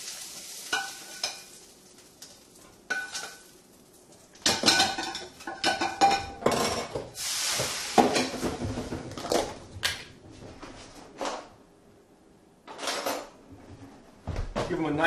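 Cooked Russian pelmeni being lifted out and dropped into a bowl, with irregular clinks and clatters of cutlery and dishes, some light stirring and scraping, and brief pauses between bursts.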